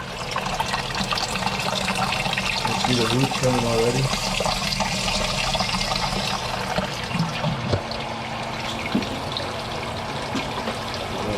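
Water trickles and splashes steadily through a hydroponic system in a greenhouse while someone talks over it close by.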